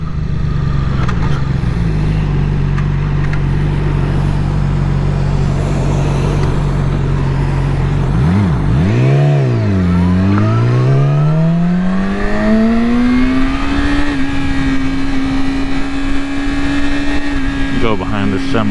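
A Yamaha R6 sport motorcycle engine drones loudly while riding, holding a steady pitch, then dipping through gear changes and climbing into a higher sustained whine, with wind rush close to the microphone.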